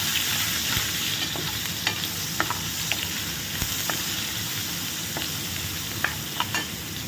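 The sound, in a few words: chopped tomatoes added to a frying pan and stirred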